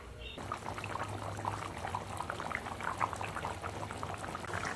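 Chicken curry broth with potatoes bubbling in a pot, a quiet, steady burble and soft popping of liquid at close range, with no voices.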